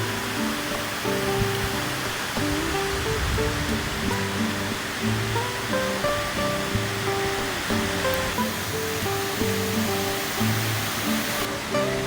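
Pha Tat waterfall pouring in a steady, dense roar of rushing water, close and continuous throughout with no voices.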